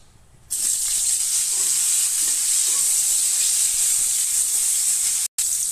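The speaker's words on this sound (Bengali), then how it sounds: "পটলগুলো ভেজে নিচ্ছি" Pointed gourd (potol) fries in hot oil, a loud, even sizzling hiss that starts suddenly and runs almost unbroken, with a brief cut near the end and no talking.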